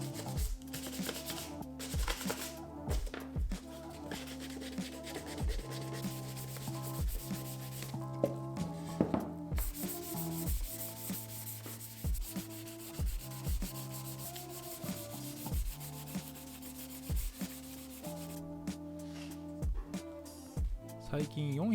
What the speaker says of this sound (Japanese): ジョイント部分の角を取るように、ちょっとハードになるように削っていきます。